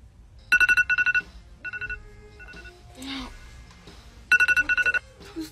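A mobile phone rings with a bright repeating electronic ringtone in short pulsed bursts, close and loud, with brief speech and other noises between the bursts.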